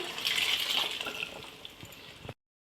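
Boiled peas, beans and other vegetables tipped with their cooking water into a pot for a Nilgiris-style vegetable kurma, a steady close liquid pour and splash that cuts off abruptly.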